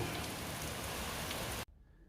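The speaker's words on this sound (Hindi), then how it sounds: "बारिश बहुत तेज स्टार्ट हो गई है" Heavy rain pours down hard in a dense, loud, continuous wash that stops abruptly after about a second and a half, leaving near silence.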